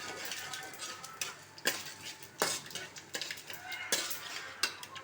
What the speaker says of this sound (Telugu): అలాగే పోపు చక్కగా వేగుతుందండి.